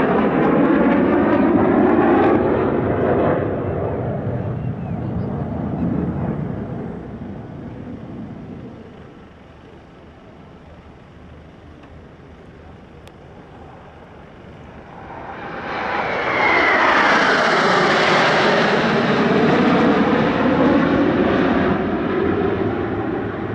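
A Black Eagles aerobatic team FA-50 jet roars past at the LIMA Langkawi 2023 airshow, loud at first, fading to a distant rumble, then surging back in a second close, rising pass.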